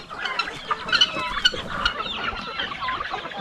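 A flock of native chickens clucks close by in quick, overlapping bursts, busy and fairly loud with no talking.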